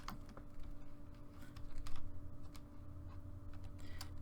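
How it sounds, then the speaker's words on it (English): Steady, close typing on a computer keyboard: rapid clicking keystrokes in quick bursts with brief pauses, set over a low background hum and no talking. "I'm just going to go ahead and type it out what I'm looking for"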